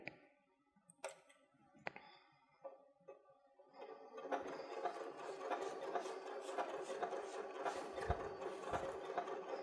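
A Martelli sewing machine stitches a fabric leaf applique, starting with a few isolated needle clicks and then settling into a steady, fast, close-up whirring run of stitches.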